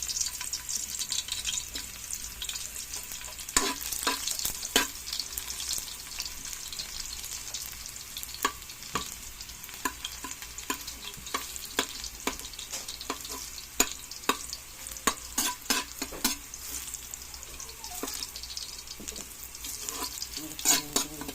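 Garlic sautéing in hot oil, with coconut-milk mussels to follow: a continuous bright sizzle runs throughout, broken by frequent clicks and scrapes of a spatula against the pan, close and fairly quiet, with no talking.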